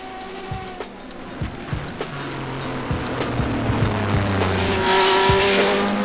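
Touring cars race past at Silverstone during a British Touring Car Championship round, engines rising and falling as they pass at some distance, with a rising roar near the end.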